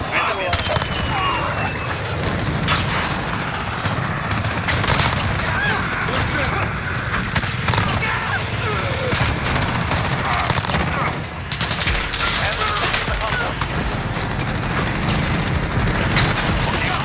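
A P90 submachine gun fires in the Call of Duty Modern Warfare video game, loud sustained bursts of rapid automatic fire with scattered louder shots, while someone talks over the action.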